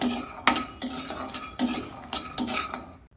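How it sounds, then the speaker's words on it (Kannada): A metal spoon repeatedly scrapes and clinks against a pan while peanuts dry-roast, several distinct stirring strokes in an irregular rhythm, close and clear with no talk. "ಒಂದೆರಡು ಸ್ಪೂನ್ ಆಗುವಷ್ಟು ಕಡಲೆ ಬೀಜನ ಹುರ್ಕೋತಾ ಇದ್ದೀನಿ ಕಡಲೆ ಬೀಜ ಚೆನ್ನಾಗಿ ರೋಸ್ಟ್ ಆಗಬೇಕು"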